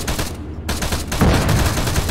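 Dense rapid gunfire from Arma 3 in a Vietnam-era setting, fired at a helicopter, comes as loud, close bursts with a brief gap before firing resumes.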